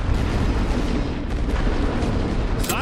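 A creeping artillery barrage in the video game The Great War: Western Front, set in July 1916, rolls as a dense, continuous rumble of overlapping booms and blasts, loud and unbroken.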